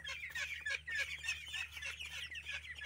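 Busy high-pitched peeping and chirping from a cluster of young ducklings, loud and continuous with no pauses, close by.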